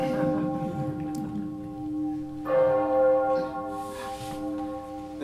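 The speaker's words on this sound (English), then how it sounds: "a nearby church bell was tolling a funeral knell." A village church bell tolls a slow funeral knell, with long ringing tones that linger and overlap, sounding from a moderate distance.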